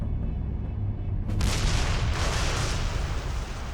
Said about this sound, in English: Other aircraft dropped incendiary bombs.